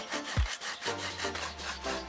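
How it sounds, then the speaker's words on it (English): A wooden skewer scrapes paint off a phone case, making a continuous close, rasping rub with a short low knock near the start. "I'll use a wooden skewer to etch a message on the paint. The skewer will scrape it off."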